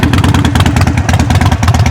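A Harley-Davidson Iron 883 motorcycle fitted with an aftermarket tuning box and exhaust runs close by, its V-twin engine pulsing in a loud, steady, throbbing rumble with no voices over it.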